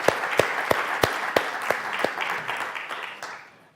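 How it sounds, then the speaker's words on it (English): Audience applause at a LINC conference session: a few sharp, distinct claps at first, then thicker clapping that gradually fades away. "she got a rich round of applause"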